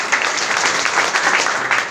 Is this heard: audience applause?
yes